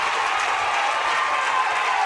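Dense, sustained roar of a crowd clapping and cheering in the stands at a state semifinal high school softball game, loud and continuous with no distinct voices rising above it.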